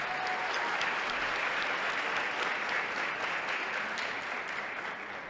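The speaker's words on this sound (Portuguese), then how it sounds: "eu peço uma salva de palmas para ela" Steady, dense applause from a large audience at a solar energy industry meeting in Brazil, loud and sustained throughout with no pauses.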